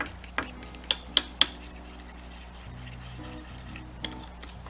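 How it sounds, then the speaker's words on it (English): A spoon stirs sweet relish into a mayo dipping sauce in a bowl, with a few sharp clinks against the bowl early on over soft, steady scraping and rubbing close by. "And mix it up."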